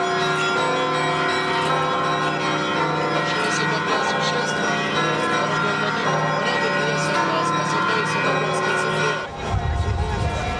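Church bells ring at the Holy Dormition Sviatohirsk monastery as a procession arrives, a dense, loud peal of bells layered over crowd noise and singing that continues through most of the clip.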